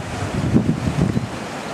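Ocean breakers roll in on a beach at Puerto de la Cruz, Tenerife, a loud rumbling wash of surf swelling and fading under gusty wind buffeting the microphone.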